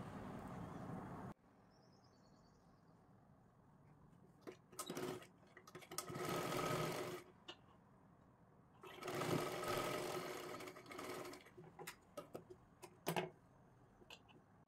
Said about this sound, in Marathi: अशा पद्धतीने आपल्याला शिलाई करून घ्यायची आहे